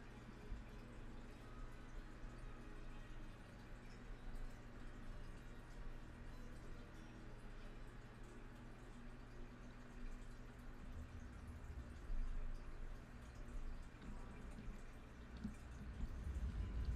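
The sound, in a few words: dripping water in Skyrim, a video game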